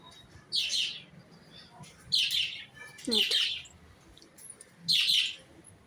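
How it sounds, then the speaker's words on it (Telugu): Four short, bright bird chirps ring out at irregular intervals, each a quick burst over a quiet background. "ఇది మా బర్డ్స్"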